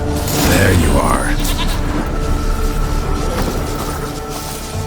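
A goat in the video game The Witcher 3 gives a wavering bleat near the start, with game ambience and someone talking over it.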